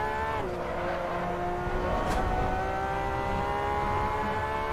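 Porsche 911 RSR racing engine at Spa short-shifting into fourth gear, a loud sustained whine with a quick pitch drop at the shift, then climbing again with a brief tire squeal.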